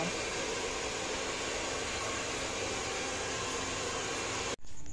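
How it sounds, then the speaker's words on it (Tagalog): A blower dries freshly washed clothes before ironing, a steady, loud whooshing hum that runs evenly and then cuts off abruptly near the end. "blower na natin. At para matuyo na, ma-plancha na natin siya."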